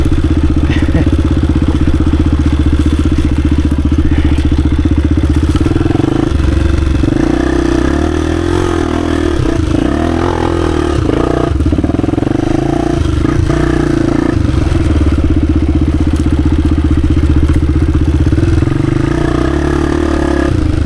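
A 1996 Honda XR250 dirt bike is ridden through the woods, its engine close and loud throughout with varying revs, throttle blips and clattering, no talk over it.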